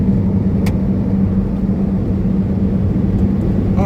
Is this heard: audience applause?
no